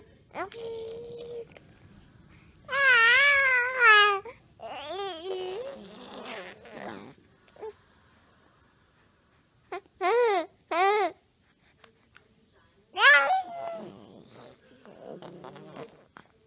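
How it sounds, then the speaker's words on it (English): A baby makes vocal noises indoors, bursts of high, buzzing squeals and babbling with long quiet gaps between, close to the microphone. "That deep, deep, deep growling thing."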